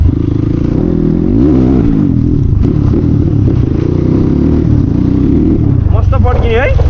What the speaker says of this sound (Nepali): मस्त पड्किने है यो बाइकमा आज डिभिगुलर नै छैन